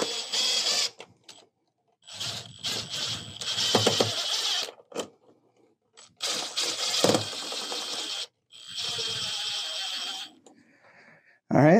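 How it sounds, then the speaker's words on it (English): Pan head screws being driven to fix a bracket onto the neck spine of a Halloween prop for a servo head-turn effect, heard as several close bursts of whirring and ratcheting with pauses between them, no talking. "we'll use pan head screws to screw it to the neck bone"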